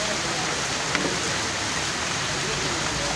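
Heavy rain pours down over a city stadium where water is pooling, a dense, steady hiss filling the whole moment without pause.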